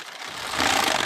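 A Passap E6000 knitting machine carriage sweeps across a single row, making a short mechanical whir that swells over about a second, with no voices.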